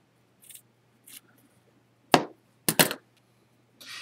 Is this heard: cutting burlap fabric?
yes